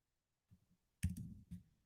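A few quick keystrokes on a computer keyboard, a short burst of faint, close clicks in an otherwise quiet room.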